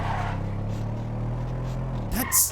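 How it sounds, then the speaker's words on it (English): A quiet car engine in the video game GTA with a Japan mod hums at a steady low idle for about two seconds, then a brief higher whine and a sharp burst end it. "This is actually a really quiet car. Listen to this engine."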